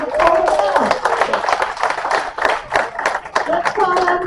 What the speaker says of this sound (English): let's give a round of applause for our actors